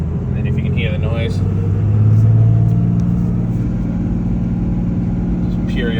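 A 2001 second-generation Cummins diesel Ram pickup with a 5-speed manual idles along in first gear with the clutch out, a steady low engine drone with a slight swell, while someone talks over it.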